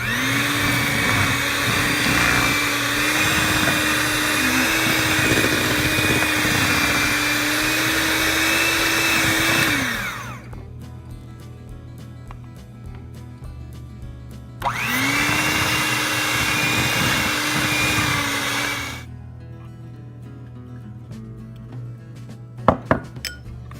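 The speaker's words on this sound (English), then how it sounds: "I'm gonna add it very slowly, and I'm gonna keep mixing it until I get it all in" A mixer whirs steadily through lemon raspberry cake batter as an ingredient is slowly added, running about ten seconds, pausing, then running again for a few seconds before stopping, with a faint clink at the end.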